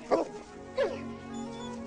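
An excited dog gives two sharp barks followed by drawn-out whining and whimpering, close and fairly loud, with no talk.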